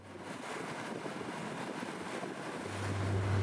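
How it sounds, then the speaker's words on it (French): A Salpa Soleil 20 boat with a Yamaha 200 hp outboard runs over open water, a steady wash of wind and spray with a low motor hum that swells louder toward the end. "Sur ce Salpa Soleil 20, on dispose d'un moteur Yamaha 200 chevaux."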